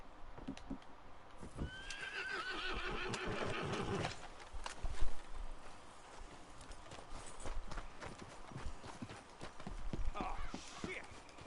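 Horses clop along at a walking pace in Red Dead Redemption 2, hooves thudding unevenly, and a horse whinnies now and then while voices talk over the movement.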